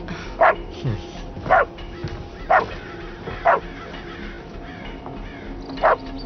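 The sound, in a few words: dog barking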